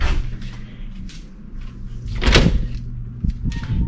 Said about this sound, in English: this is the door that leads us back to the main office